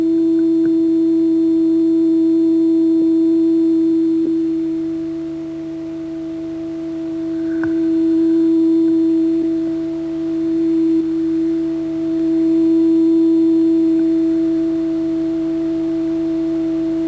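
A steady pure electronic tone from two loudspeakers hums on continuously, its loudness dipping and swelling slowly in the middle as the waves cancel and reinforce.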